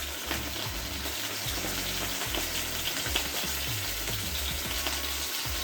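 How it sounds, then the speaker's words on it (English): Chicken for adobo sizzles steadily in a hot frying pan, a dense crackling hiss with bursts of popping and a low bubbling rumble underneath. "Can you hear that sizzle?"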